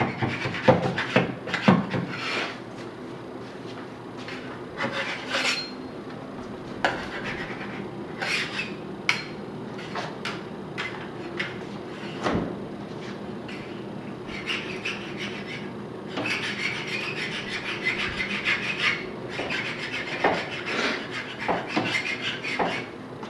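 A hand scraper rasps along the edges and corners of a floor in a rental property, lifting stuck residue in repeated rough scraping strokes, close and steady, with no talking.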